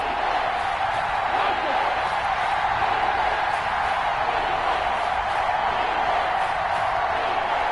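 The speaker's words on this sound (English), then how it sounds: "the crowd getting into it as we come up on a big third down" Football stadium crowd building on a big third down: a dense, steady roar fills the background while a commentator talks over it.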